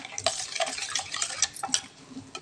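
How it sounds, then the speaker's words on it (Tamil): Chutney with curd and sesame oil being stirred in a bowl, a few quick close scraping and clinking strokes of a utensil, no speech. "இதை நல்லா கலக்கி விட்டுக்கலாங்க."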